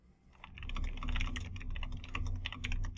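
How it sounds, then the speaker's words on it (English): Rapid typing on a computer keyboard while composing an email, a close, busy patter of key clicks running almost without pause. "Finally, I can begin typing in the body of my email."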